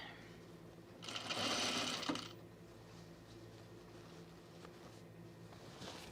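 A home sewing machine stitches the lining of a blazer in one quick whirring burst of about a second, close and clear, then falls quiet with only faint handling sounds afterward.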